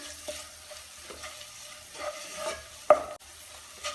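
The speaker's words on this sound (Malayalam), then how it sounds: "ഇതെല്ലാം കൂടെ നന്നായിട്ട് ഒന്ന് വഴറ്റിയെടുക്കുക, അടുക്കി പിടിക്കാതെ" Chili powder and garam masala are sautéed with beef in a pan, giving a soft frying sizzle and a few quiet scraping stirs, with one sharper clink of the spoon near the end.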